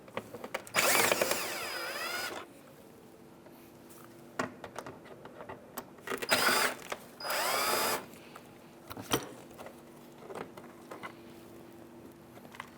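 Power screwdriver backing Phillips screws out of a 2003-2011 Honda Element mud flap, several short whirring bursts of one to two seconds separated by quiet gaps and small clicks, close and fairly loud with no talking.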